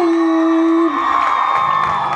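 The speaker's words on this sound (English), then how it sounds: "Let's give him another round of applause for your king and queen." Prom crowd at the king and queen crowning cheering and whooping, a loud steady roar of many voices filling the room, with a sustained tone fading out early and continuous crowd noise throughout.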